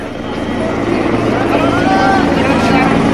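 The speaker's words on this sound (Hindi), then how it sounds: "लगातार राम मंदिर परिसर के ऊपर सीएम का ये हेलीकॉप्टर उड़ रहा है" A helicopter flies above the Ram Mandir complex in Ayodhya, its rotor drone building steadily and loudly, mixed with crowd murmur and voices in the background.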